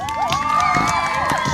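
A crowd at a Gas Gas trials bike event cheers and whoops, with rising and falling shouted voices layered loudly over one another in a short, continuous burst.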